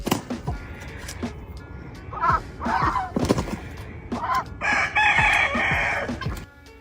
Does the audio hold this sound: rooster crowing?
yes